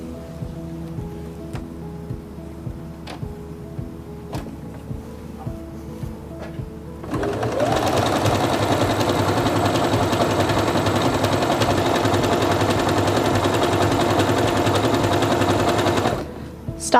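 A Singer Quantum Stylist 9960 sewing machine stitches fabric in a steady, fast mechanical whir that starts abruptly after a few quiet ticks and runs loudly for about nine seconds before stopping.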